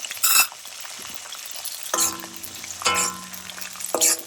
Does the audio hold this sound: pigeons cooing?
no